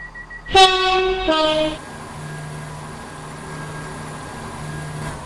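Train horn sounds on a Stepford Connect service in a Roblox railway game at a station for Port Benton: two short sharp blasts, followed by a steady, quieter rumble of the train with a faint high whine.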